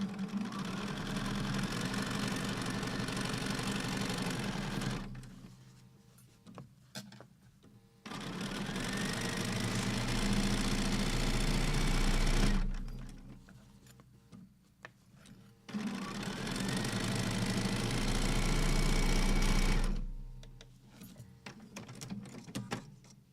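A sewing machine runs in three long bursts while stitching a seam on a quilt crumb block, a steady, fast, close mechanical whir separated by short quiet pauses.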